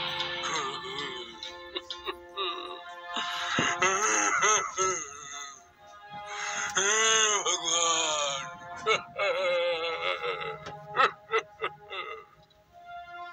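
A wishing well in a children's story cries loudly, rendered as a voice wailing and sobbing in long, rising and falling moans broken by short gasping sobs.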